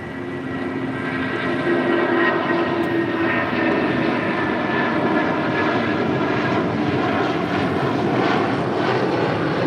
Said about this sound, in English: Next departure, United Airlines in the Star Alliance livery, flight 2072, heading to Newark in the 757-200.